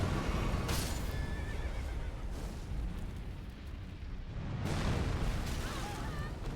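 A horse in the video game Elden Ring neighs loudly and close, with deep booming, explosive rumbles beneath it and a brief voice partway through.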